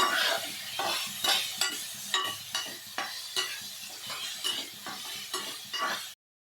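A spoon scrapes and stirs tomato masala for rice in a sizzling pan. The strokes repeat rhythmically, about two per second, close and fairly quiet, then stop abruptly.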